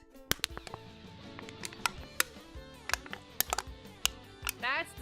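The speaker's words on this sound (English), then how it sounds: "That's the sound of an empty can." An empty Diet Coke can tapped by hand: a run of sharp, irregular, close-up metallic taps and clicks, some in quick clusters, with quieter rustling between.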